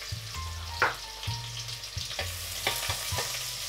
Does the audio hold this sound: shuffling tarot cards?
no